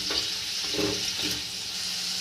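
Bottle gourd leaves stir-frying in a pan give a steady, hissing sizzle, with a few soft scraping stirs close by and no talk.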